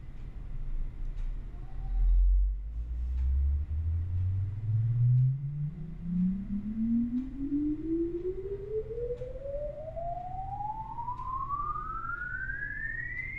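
Sine wave test tone played inside a soundproofed office and heard through the shut door, a steady pure tone sweeping smoothly upward in pitch from low to high over about twelve seconds, muffled but clear above a low background hum.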